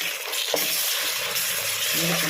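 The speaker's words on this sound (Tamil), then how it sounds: "இப்போ எல்லாமே போட்டு நம்ம வதக்கிக்கலாம்." Mint, coriander, chili, carrot, beans, peas, meal maker and tomato sautéing in a pan, giving a steady close sizzle and hiss throughout with faint stirring.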